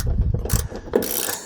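A screw being backed out of a mud flap on a Hyundai i20, close by: a run of short ratcheting clicks and scraping mechanical turns in irregular bursts, with no talking.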